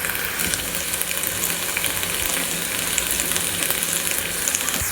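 Spices roasting in a pan on a gas stove sizzle and crackle steadily and close, with a continuous hiss and small pops and no talking.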